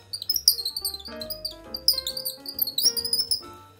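A homemade bird call made as camping gear and twisted to produce chirping, tweeting tones imitating birdsong: two bursts of rapid high squeaky chirps, close and fairly loud, with no speech.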